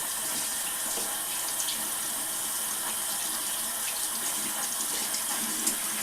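Running tap water pours steadily as makeup brushes are rinsed under it, a continuous close hiss and splash with no talking.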